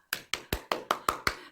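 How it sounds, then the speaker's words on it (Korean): Seven evenly spaced sharp hand claps, close and crisp with short decays, given in thanks to two teachers at a church children's Sunday service. "수고하신 두 분 선생님께 우리 모두 박수 보내드려요"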